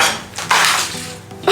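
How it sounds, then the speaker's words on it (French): Egg yolks and sugar whisked in a bowl, the whisk clattering and clinking against its sides in short, loud, uneven bursts, close by. "Fouettez les jaunes d'œufs avec le sucre."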